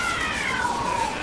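A cat in an animated series gives a single drawn-out, loud meow that slides downward in pitch, heard alone.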